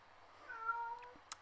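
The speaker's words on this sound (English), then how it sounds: "you can hear my cat in the background" A single soft meow from a cat, faint and a little distant in a quiet room, followed by a couple of small clicks.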